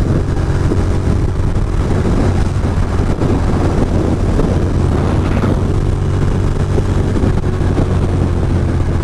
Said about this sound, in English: It's not normally this windy here. I feel like it's extra windy.